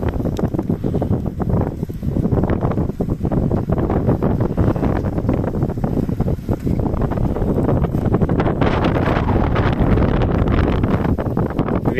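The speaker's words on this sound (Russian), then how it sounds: "Ветер тут задувает на очень высшей точке близ Нерчинска." Strong wind buffets the microphone at a high point near Nerchinsk, a loud continuous roar with gusty low rumble that fills the whole stretch without any voices.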